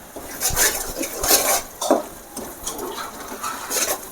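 Dried chilli chicken being stirred in a pan, with repeated scraping and clinking strokes of a utensil against the metal at an uneven rhythm, close and fairly loud, with no talking.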